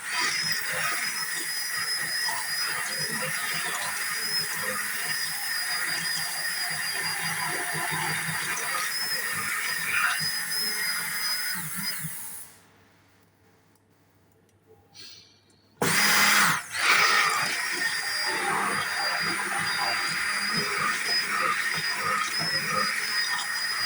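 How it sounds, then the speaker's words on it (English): A worn-out blender whips a rice ice-cream mixture with a steady, whining motor hum. It stops for a few seconds, then starts again and keeps running at the same level. "Blender's on its way out."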